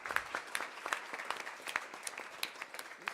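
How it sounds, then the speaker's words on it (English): A small room's worth of people clapping for community organizations at a Baltimore mayoral announcement on summer youth engagement; scattered, fairly quiet individual claps rather than a dense roar, uneven in rhythm throughout. "Just want to give them a round of applause for their work."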